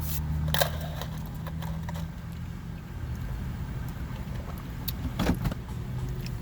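Car power window opening, a low electric motor whir running steadily under faint cabin background noise, with a few brief clicks and rattles, no speech.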